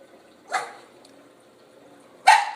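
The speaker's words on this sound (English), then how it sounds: "We gotta go see what Allie's barking at" Two sharp dog barks, one early and one near the end, separated by a quiet pause in an otherwise still room.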